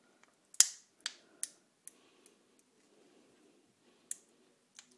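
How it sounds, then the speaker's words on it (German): A nut is cracked open while bird food is made for winter. A few sharp, close cracks and clicks stand out against quiet, with one loud snap near the start and softer ticks after. "Und zwar knackt hier eine Nuss einmal auf."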